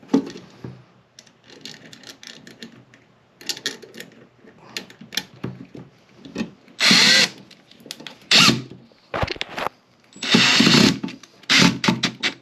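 A power drill drives screws into an electrical outlet box in repeated short bursts of whirring, each run lasting about a second with pauses in between, close and loud, and no speech.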